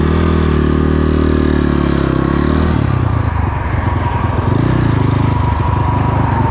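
The engine of a GPX FSE 250 E dirt bike drones loudly and continuously on a trail ride, its note shifting and roughening partway through as the rider changes gear, with no voices.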